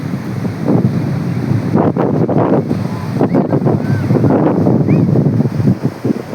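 Sea waves and gusting wind on a busy beach form a steady broadband roar that buffets the microphone, with voices of visitors and children talking intermittently over it.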